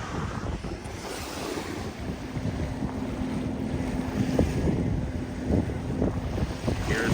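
Wind and lapping water fill the scene at Shell Key, Florida, while a boat motor hums faintly in the distance, a steady outdoor wash.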